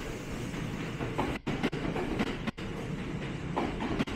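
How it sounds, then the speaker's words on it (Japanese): A Kyoto Municipal Subway 10 Series train rolls away from Yamato-Saidaiji Station on the Kintetsu Nara Line toward Nara, with continuous rumbling and rhythmic clacking of wheels over rail joints, moderately loud and steady. "近鉄と相互直通乗り入れを行っている京都市営地下鉄10系車両が"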